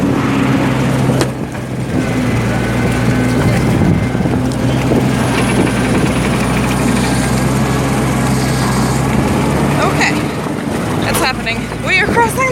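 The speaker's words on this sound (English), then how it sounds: "We are crossing the river in a tractor." A tractor engine runs steadily throughout while fording a river near Pescadores, Peru, a rough continuous mid-pitched drone with splashing water and excited voices over it.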